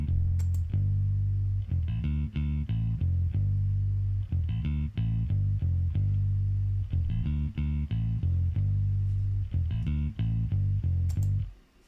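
A Scarbee Rickenbacker bass preset plays a hook pattern in a soulful R&B beat, a loud, steady run of repeated plucked notes in short rhythmic phrases that fall off abruptly at the end, alone with no voices.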